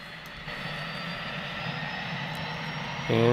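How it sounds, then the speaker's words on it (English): Propeller aircraft engine running steadily in the X-Plane 10 flight simulator, a constant droning hum with a louder, rougher surge at the very end. "And we have a spinning prop."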